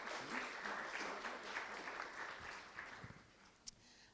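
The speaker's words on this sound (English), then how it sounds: "You can clap for him." Quiet applause from a panel audience at a talk on war in the digital age, a soft continuous patter of hands that thins out toward the end, heard from a distance.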